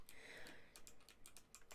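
Fast clicky mechanical computer keyboard typing, a close, quiet run of sharp clacking keystrokes in an uneven rhythm.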